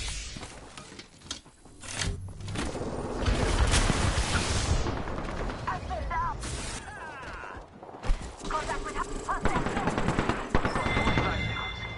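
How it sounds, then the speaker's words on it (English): Rapid automatic gunfire in Apex Legends, dense bursts of shots with mechanical clatter and shattering, loud and close, continuing through most of the stretch with a brief lull and voices mixed in. "I'm getting shot at."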